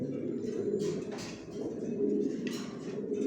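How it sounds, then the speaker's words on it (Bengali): Pigeons coo softly and steadily in a loft, their low murmuring blending into a continuous hum with a few faint rustles above it. "আর নিউ অ্যাডাল্ট কবুতর বিক্রি করি"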